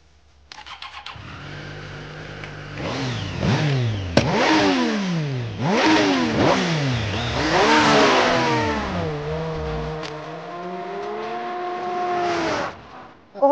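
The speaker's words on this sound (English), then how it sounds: "The engine and the power of this bike is incredible." A 2017 Triumph Street Triple motorcycle engine revs hard and accelerates close by, rising and falling through repeated sharp throttle blips before settling into a steadier drone.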